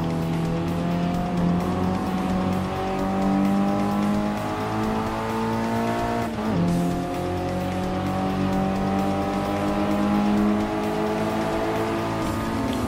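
An all-wheel drive GT1 race car from Gran Turismo Sport holds a loud, steady engine drone through its gears over a final lap, with tire squeal and shifting pitch as it accelerates, and no talk over it.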